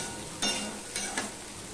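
Half-fried brinjal in hot oil for a parshe fish curry, a soft steady sizzle broken by a few brief louder crackling bursts as the pieces are stirred, faint and close.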